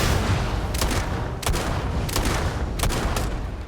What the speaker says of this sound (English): Am I shooting the wrong people or something?